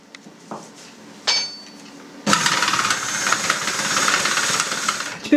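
Electric mixer beating carrot cupcake batter with honey: a few light clinks and knocks come first, then the motor starts with a loud, sustained whirring drone that continues to the end.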